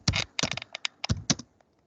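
Fingers tap quickly on a computer keyboard, several bursts of crisp clicks with short pauses between them, close and clear before the keys fall quiet.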